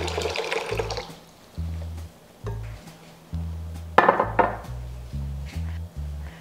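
Water runs and splashes into a container of soaked soybeans in a kitchen, with pouring bursts, a low repeating hum underneath and a few clinks of a vessel.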